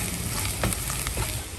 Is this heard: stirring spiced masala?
yes